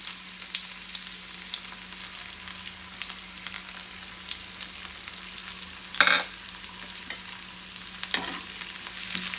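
Half an onion sizzles gently in ghee over a low flame, a soft steady crackle heard up close, with a couple of sharper clicks from a utensil partway through.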